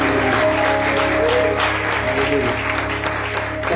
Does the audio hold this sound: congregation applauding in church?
yes